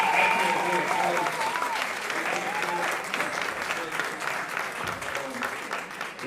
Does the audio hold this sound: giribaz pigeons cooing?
no